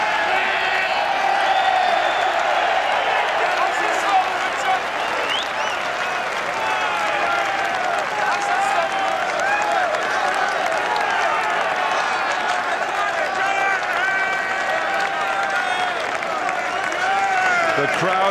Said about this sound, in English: The crowd are standing and cheering and applauding a monumental gamble on this Flagship Uberalles